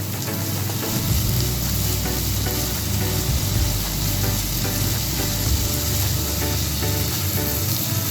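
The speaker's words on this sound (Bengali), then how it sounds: "এবার সমস্ত ভেজিটেবলসগুলোকে হালকা করে সতে করে নেব।" Capsicum, peas and mixed vegetables sauté in a hot pan, with a steady loud sizzle broken by repeated scraping and stirring strokes throughout.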